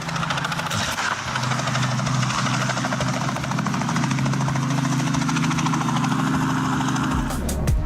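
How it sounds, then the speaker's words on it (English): A helicopter striking power lines, its engine and rotor giving a loud, continuous drone that fills the whole stretch, with a shift in the sound just before the end. "A helicopter colliding with power lines looks dangerous."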